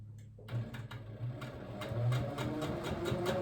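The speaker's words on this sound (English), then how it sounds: "we'll go to the machine and we'll quilt that out next" A quilting machine hums and stitches across ice-dyed fabric, a steady mechanical whir that starts after a brief silence and rises slightly in level, with faint regular ticks and no speech.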